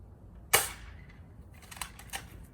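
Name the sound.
gunshot fired at Dollar Tree helmet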